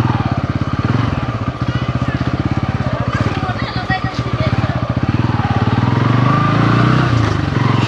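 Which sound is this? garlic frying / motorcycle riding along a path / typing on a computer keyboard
motorcycle riding along a path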